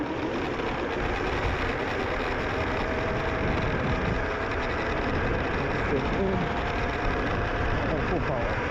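A drift kart engine runs in third gear at full power, a dense, rapid buzzing roar that stays steady and close for the whole stretch.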